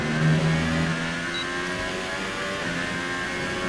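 A Renault Formula 1 race car engine in the F1 2018 video game drones steadily and loudly at high revs throughout, with a slight pitch shift partway through and no talk.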